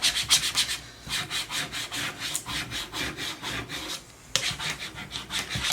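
Transfer tape is rubbed firmly down over cut Cricut vinyl lettering laid on a wooden board, giving a rapid run of rhythmic scraping strokes. The strokes are close and loud, with one short pause near the end.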